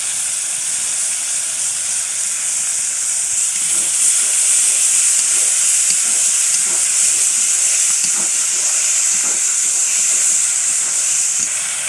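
Small gochi fish sizzle as they fry in a hot pan, a loud steady hiss of oil with faint soft crackles running throughout, no voices.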